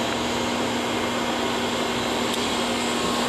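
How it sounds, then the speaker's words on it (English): Steady, loud whirring hiss of a tool room surface grinder grinding carbide in a machine shop, continuous broadband noise with a constant hum and no pauses or talk. "It's a common tool room grinder, and it's utilized for grinding carbide."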